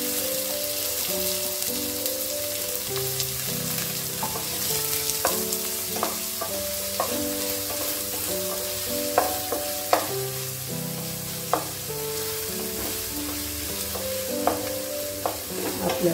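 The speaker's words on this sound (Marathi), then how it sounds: "आपल्याला लाईट ब्राउन होईपर्यंत फ्राय करून घ्यायचं आहे" Finely chopped onions, two of them, frying in a pan: a steady close sizzle with irregular stirring clatters and scrapes, with music playing underneath and no talking.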